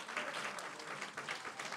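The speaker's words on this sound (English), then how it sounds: "let's clap it up right there for Brian" Audience applause in a group coaching session, a steady, moderately distant wash of many hands clapping with no break.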